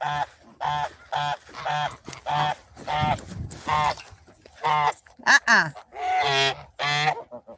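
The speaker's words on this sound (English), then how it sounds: "He's scared of the geese." Geese honk loudly and close by in a rapid, uneven series of harsh nasal calls, with a brief flurry of overlapping honks near the end.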